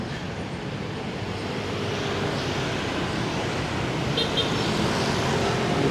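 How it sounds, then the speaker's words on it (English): Dense motor scooter traffic surging through a Ho Chi Minh City street, a steady loud roar of many small engines blending into one continuous wash of road noise with no talk. "That is the motor scooters of Ho Chi Minh City,"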